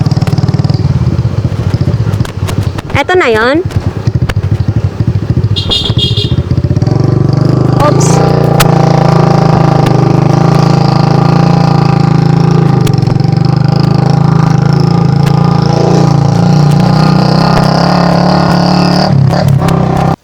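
Motorcycle engines drone steadily near a park in Cawayan, Masbate, loud and continuous for the whole stretch, with a brief spoken remark near the start.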